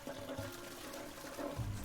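Water drains away in an island adventure game, a faint steady gurgling and trickling wash that continues throughout with no one speaking.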